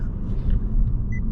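A 2020 Honda Civic Si on the road, heard from inside as a steady low engine and tire rumble with no talking.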